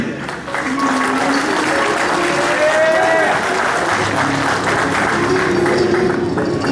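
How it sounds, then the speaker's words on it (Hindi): An audience at a tribute concert applauds the performers with sustained, thick clapping, while a voice or tonal line rises faintly in the background through the noise. "तो लेडीज एंड जेंटलमैन एक बार भरपूर तालियां सारे फनकारों के लिए"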